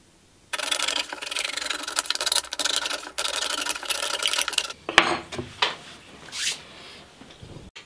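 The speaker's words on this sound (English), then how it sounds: "I'm just going to use a can opener for that" A can opener cuts the bottom off a metal can, a close, scraping, ratcheting grind lasting about four seconds, followed by a few scattered clanks and rustles as the piece is handled.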